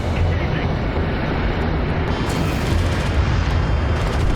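A strike craft explodes in Homeworld: Deserts of Kharak, a loud sustained rumbling blast with a dense low-end roar lasting several seconds amid continuous battle noise.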